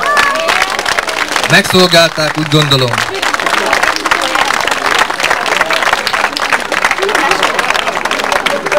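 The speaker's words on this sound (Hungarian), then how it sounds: "Nagy tapsot kérek" Loud audience applause at a village day cooking contest award, sustained dense clapping from a large outdoor crowd, with a voice speaking over it early on and crowd murmur mixed in.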